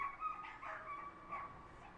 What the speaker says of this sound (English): there are some. dogs barking in the street, if you guys can hear